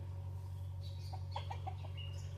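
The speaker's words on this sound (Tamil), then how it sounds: "கோழி வரணும், உள்ளார போகணும்." Chickens on a farm clucking in a few short bursts over a steady low hum, with no talking.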